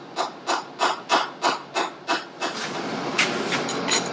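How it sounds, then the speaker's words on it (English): A tiny hammer taps a new roll pin into a gear sleeve held in a vise while restoring a 1958 Harley-Davidson Sportster XL, with eight sharp, evenly spaced metallic taps followed by a quieter, scraping stretch. "I got a new roll pin and my tiny hammer."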